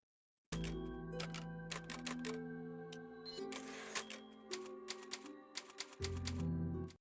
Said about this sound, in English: Those typewriter sounds were pretty nice.